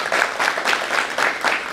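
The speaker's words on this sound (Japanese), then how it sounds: "最後に大きな拍手で" Audience applause at the close of a symposium for a disability awareness week gathering, a dense, steady wash of clapping from a sizable hall crowd, even and sustained throughout.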